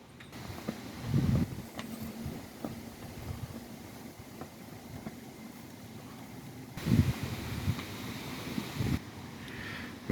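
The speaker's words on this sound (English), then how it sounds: "It's a little bit windy out here" Wind blows outdoors on a fall day as a low, gusty rumble buffeting the microphone, rising in a few stronger gusts, with no voices heard.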